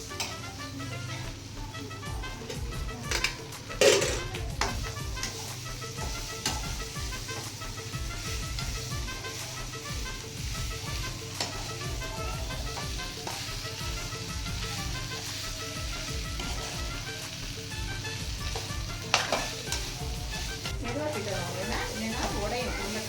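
Potatoes fry in a pan as they are stirred, a steady sizzle with scraping and clinking under occasional voices, holding an even level throughout.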